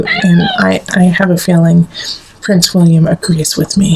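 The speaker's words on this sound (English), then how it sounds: "And you can hear our little kitty talking to you too." A pet cat meows in short bursts, mixed in with someone talking nearby, both close and clear.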